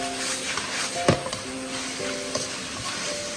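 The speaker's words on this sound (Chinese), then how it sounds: "下面我们把刚才切好的蒜苗给加进来，再快速的翻炒" Sliced garlic sprouts are tossed into a hot wok with pork and shimeji mushrooms, giving a steady close sizzle with scraping spatula strokes and a sharp clack as the stirring starts.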